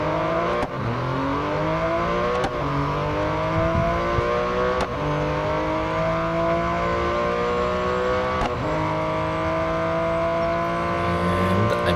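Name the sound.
Porsche 959 engine racing in video game Real Racing 3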